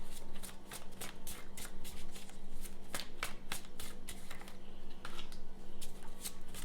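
Tarot cards are shuffled by hand close to the listener, with a steady run of soft flicking riffles and light slaps that continue without talking.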